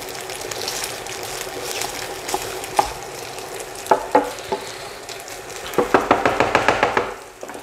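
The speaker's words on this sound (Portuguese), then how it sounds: "a linguiça tá bem fritadinha" Sausage fries in a pan for pasta alla norcina, a low sizzle under a string of sharp scraping and stirring clicks that grows into a quick rapid series near the end.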